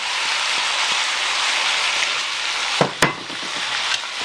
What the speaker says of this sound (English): There's a lot of butter in the mushrooms, which will go right in now.